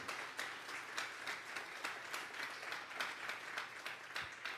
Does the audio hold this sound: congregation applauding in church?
yes